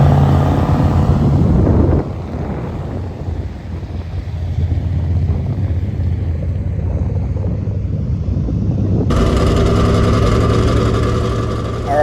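Dirt track race car at the Illini 100 in Farmer City pulling onto the track for night qualifying, its engine a steady low rumble with wind buffeting, then a louder, brighter surge near the end.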